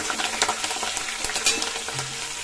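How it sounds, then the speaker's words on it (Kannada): Ingredients for masala dosa filling fry in a pan until reddish, a continuous loud sizzle broken by rapid scraping and clinking of a spoon stirring against the metal, with no talking. "ಒಂಚೂರು ಕೆಂಪು ಕಲರ್ ಆಗೋ ಗಂಟ ಫ್ರೈ ಮಾಡ್ಕೊಳ್ಳೋಣ"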